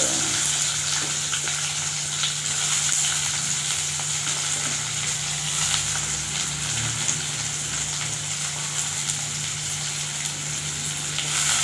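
Steady, loud sizzling of onions and curry leaves frying in hot oil, a continuous crackling hiss with no voices over it.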